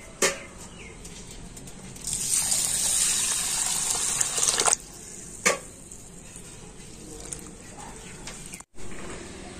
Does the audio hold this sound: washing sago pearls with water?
yes